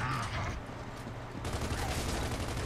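Gunfire in the video game Gears of War is heard as a dense, continuous volley of shots in a noisy match, with no pause across the whole stretch.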